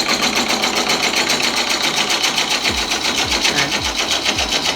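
A gouge cuts into a bowl spinning on a wood lathe, giving a steady, close, broadband whirring hiss with a faint rhythmic pulse and a few low thumps near the end; no one talks.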